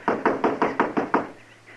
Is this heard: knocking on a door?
yes